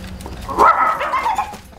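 A dog on the set of a Korean film barks once loudly, then gives a few shorter yelping barks close by, alone with no talk.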